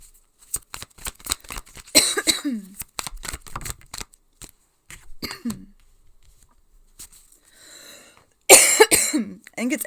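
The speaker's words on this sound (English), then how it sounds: "I can't stop coughing." A woman coughs repeatedly in short, close, dry bursts spread unevenly across the moment, with a louder fit of coughing near the end and small rustling sounds between.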